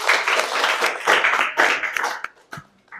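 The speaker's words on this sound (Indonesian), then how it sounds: "Tepuk tangan semua." A class applauding together at a training session, a burst of dense clapping that swells in waves and tapers off to scattered claps near the end.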